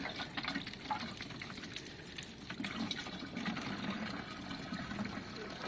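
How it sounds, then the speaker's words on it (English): Vinegar sloshes and pours out of a rusty 1972 Triumph Bonneville T120 fuel tank onto a floor, a continuous gurgling, splashing gush of liquid, fairly quiet and steady. "It needs a bit of sloshing, John."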